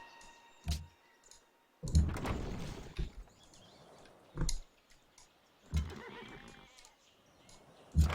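Several short bursts come through faintly in a Civilization V match, including a horse whinny, with sparse clicks and quiet gaps in between.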